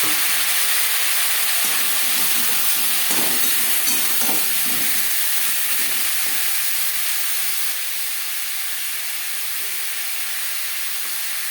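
Potatoes frying in hot oil with whole cumin seeds in a wok give a steady, fairly loud hiss and sizzle, with a few clattering stirs near the start and no voices.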